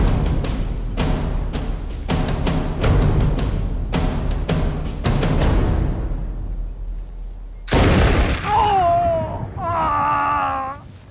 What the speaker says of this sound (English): I shall raise my pistol and fire first